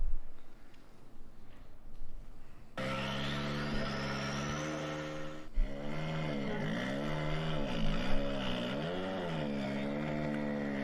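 Proton R5 rally car engine, a steady loud drone with a rising rev and then rhythmic revving swells, heard alone without talk.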